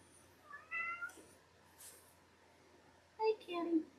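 A cat meows softly a few times, short rising calls separated by quiet gaps in a calm indoor room.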